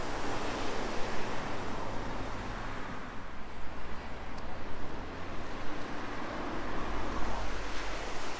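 Surf rolls in on the beach at Cobo Bay on Guernsey's west coast, a steady, fairly loud wash of breaking waves with gusty wind rumble over the microphone and no talking.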